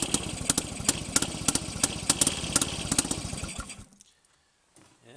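A small engine on a Penguin fires after a kick start and runs with a rapid, close, popping putter for a few seconds, then cuts out into near silence.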